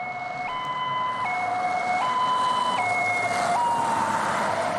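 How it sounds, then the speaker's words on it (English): A Finnish emergency vehicle siren alternates steadily between two tones in a slow hi-lo pattern, loud and continuous over a constant rumble of road noise. "It's kind of like a more drawn out like US style siren"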